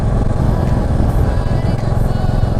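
Royal Enfield motorcycle cruising on an open morning road in North Bengal, its steady engine drone and wind rumble loud and continuous throughout.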